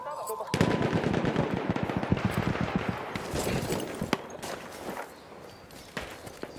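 Rapid machine gun fire in Battlefield 1 combat, a dense, loud stream of shots that rattles for several seconds, then thins into scattered distant bursts and single reports.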